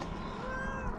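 A frightened cat meows in one drawn-out, tonal cry while travelling, close and fairly quiet, with no voices.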